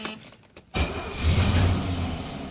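Engine cranking and catching with the throttle held wide open, a few faint clicks then a sudden rough roaring start that builds and holds, close and loud.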